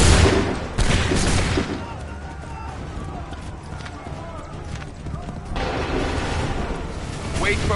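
A volley of musket fire in Assassin's Creed 3, loud cracking blasts at the start and again later, amid horse hooves clip-clopping, battlefield rumble and shouted voices.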